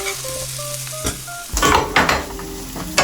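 Alaskan salmon laid into a hot frying pan, with a clatter of utensil and pan followed by a burst of sizzling and crackling oil, close and loud, with further scraping stirs.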